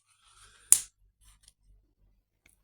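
Scissors on a Victorinox Golf Tool multitool make one crisp, close snip, with near silence around it apart from a few tiny clicks.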